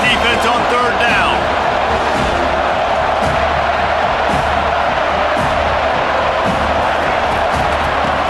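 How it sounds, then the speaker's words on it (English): Stadium crowd at a Boston College at Florida State college football game in College Football 25, a steady loud roar of cheering on third down, with a commentator talking over it. "Decibels rising as the crowd gets behind this defense on 3rd down."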